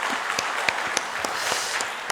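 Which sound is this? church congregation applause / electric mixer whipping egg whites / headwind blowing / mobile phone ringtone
church congregation applause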